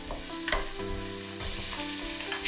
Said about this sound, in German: Wenig Speiseöl stark erhitzen. Lochzwiebel und Knoblauch einschwitzen.